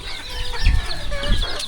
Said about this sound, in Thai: ไก่เราหลาย